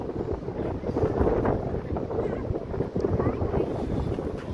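Steady wind rushes and buffets across the microphone, a constant low roar with gusty swells throughout.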